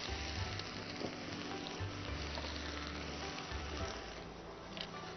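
Dried red chillies and green chillies sizzle steadily in hot mustard oil, a close, continuous crackle with occasional pops and a faint stir, no voices.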